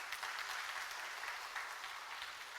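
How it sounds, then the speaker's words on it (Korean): A church congregation applauds during a children's and elementary department dedication service, a steady, moderately faint patter of clapping that continues evenly without a voice over it. "아우, 박수 한번 쳐드릴까요?"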